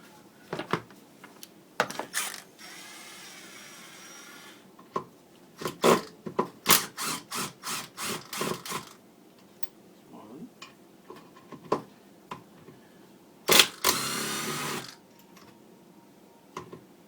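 A socket wrench removes the clutch from a Honda TRX400EX engine, producing bursts of rapid ratchet clicks in quick runs, close and loud, separated by short pauses and brief scraping, with someone talking at times.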